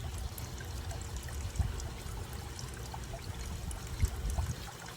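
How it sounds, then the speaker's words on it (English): Aerated water from a small submersible pump trickles and splashes steadily into a koi's water, a soft, continuous bubbling pour with a couple of slightly louder splashes. "He's got that nice aerated water coming in."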